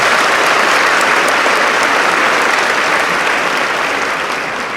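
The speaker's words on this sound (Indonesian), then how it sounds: "Tepuk tangan untuk kita semuanya" Dense, steady applause fills a hall at a transportation college graduation ceremony, many hands clapping loudly and continuously before easing off slightly at the end.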